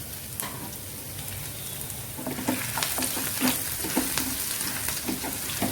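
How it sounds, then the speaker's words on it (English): Chillies, garlic and ginger frying in oil in a pan, a steady close sizzle that grows busier after a couple of seconds with crackling pops and occasional stirring scrapes, no talking. "fry it till the color of the garlic and ginger changes"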